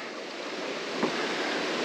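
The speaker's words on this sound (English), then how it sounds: "Now I have to cross the creek." A creek flows along a trail during a grouse hunt, a continuous broadband rushing wash mixed with wind noise, steady and close, with one small splash near the middle and no talking.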